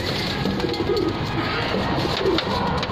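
Teddy pigeons coo in a soft, repeated rolling rhythm close by, several low calls overlapping over a steady background hum, with no voices.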